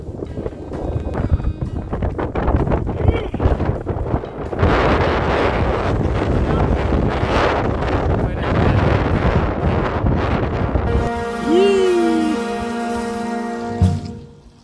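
Strong cold wind buffets the microphone in loud, rushing gusts on a gravel bike ride through the Scottish hills, then settles into a steadier hum of a vehicle with a brief tonal whine near the end.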